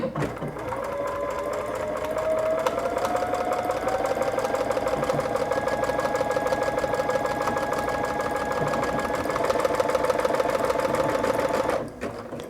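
A sewing machine stitches a buttonhole automatically in one steady, continuous run of fast needle clatter and motor hum, loud and close, slowing slightly before stopping near the end.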